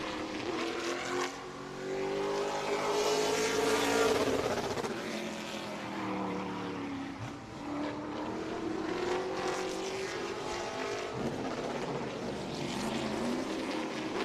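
A CARS Tour race car roars through a qualifying lap at the Autos By Nelson 225, its engine note rising and falling as it passes through the gears, loud and sustained across the whole stretch.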